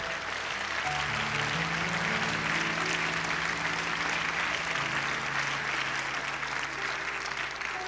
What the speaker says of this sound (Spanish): ¿Cuántos pueden darle un fuerte aplauso a Cristo?